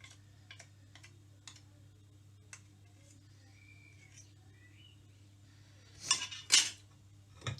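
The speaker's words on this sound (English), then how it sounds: "a teaspoon still comes useful for scraping all the bits off the top" A teaspoon scrapes leftover condensed milk from the underside of a ring-pull tin lid, giving a few light metallic ticks and clinks early on, then louder scraping bursts near the end over a steady low hum.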